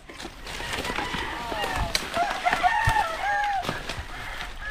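A pet fighting cock clucks and crows several times, with a voice talking nearby throughout.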